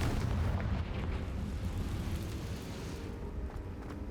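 Confringo fire spell exploding in the video game Hogwarts Legacy, a deep rumbling blast that fills the whole stretch and fades slowly, loud and heavy with a low boom.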